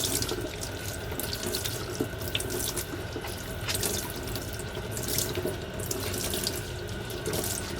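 Tap water runs continuously into a sink while tie-dyed fabric is rinsed under it, a steady close splashing gush with small irregular splatters and no talking.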